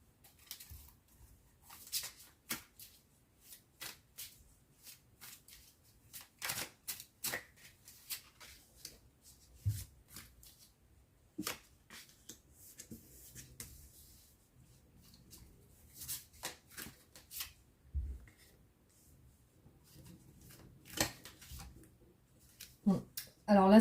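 Tarot cards being shuffled by hand for a reading, giving soft, irregular riffling and slapping bursts close by with pauses between them, and no talking over the shuffling.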